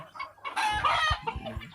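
Desi hens about five months old, already laying, cluck and squawk on a rooftop poultry farm, a short burst of close, lively calls with no talking.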